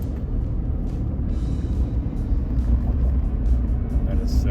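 A 2023 Ford F-150 XLT pickup truck driving on a test drive, heard from inside as a steady low engine and road rumble that swells slightly, with people talking over it.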